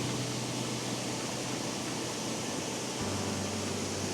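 Waterfall in Linn Park, Glasgow, a constant broadband rushing of falling water, steady and even with no other sounds over it.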